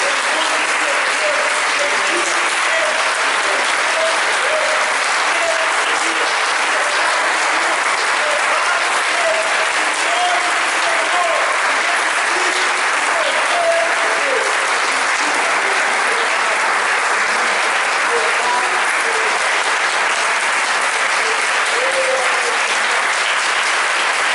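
A church congregation claps together at an Easter service, a dense, steady applause that fills the room for the whole stretch, with voices faintly mixed in beneath it.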